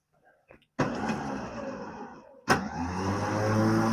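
Electric winch pulling a vintage three-wheel Clark forklift onto an Aluma tilt trailer: a steady motor whine starts abruptly, pauses briefly, then resumes and holds loud and close, with faint clicks before it.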